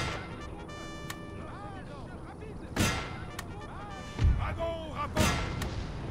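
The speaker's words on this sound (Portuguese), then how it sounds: "Ai, nossos canhões atirando." Several heavy booms of cannon fire in the video game Napoleon: Total War thump out irregularly over a busy battle din, with a voice talking between the blasts.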